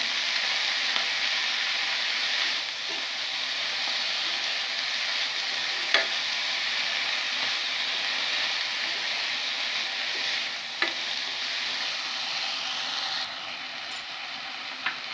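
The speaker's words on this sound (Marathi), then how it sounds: "ही जी भाजी आहे ते आपण पूर्ण इथे मिक्स करून घेऊया" A vegetable bhaji sizzles steadily in a pan for the whole stretch, broad and even, while a spoon stirs it with occasional light scrapes and taps against the metal.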